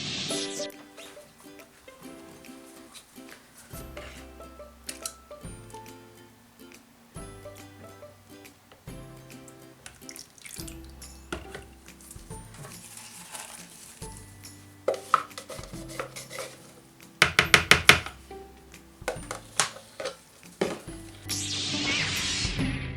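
Soap batter with color and lye solution being mixed, with repeated bursts of a stick blender whirring in a container amid clatter and scraping, close up and no talking.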